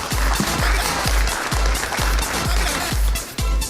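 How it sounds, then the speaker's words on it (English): Conference audience applauding panelists after their presentations, a dense steady wash of clapping throughout, with regular low thumps underneath. "join me in applauding the very rich presentations by our distinguished panelists"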